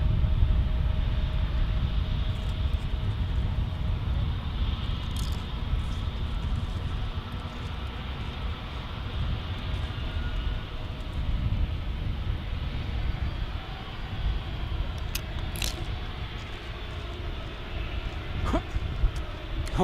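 A Hawaiian Airlines Airbus A321neo at San Diego airport gives a steady, loud, low jet-engine roar that lasts throughout, with a few faint brief clicks near the end.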